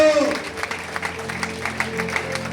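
A church congregation claps throughout, scattered and uneven, with a voice trailing off at the start and faint talk mixed in.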